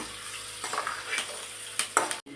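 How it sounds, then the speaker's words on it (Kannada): Onion frying in oil for an egg gravy, a steady close sizzle with scraping stirs and a few light clinks of a pan, no talking. "ಅದೇ ಎಣ್ಣೆಗೆ ಒಂದು ಈರುಳ್ಳಿ ಫ್ರೈ ಮಾಡ್ಕೊಳ್ಳೋಣ"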